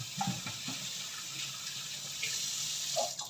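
Hands washed under a running kitchen tap while preparing Bavarian bread dumplings, a steady close stream of water with soft splashes as the hands move through it.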